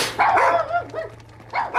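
Dogs bark from crates below deck aboard a boat, a few short yapping barks in quick succession followed by a whimpering yip, set against a steady low hum.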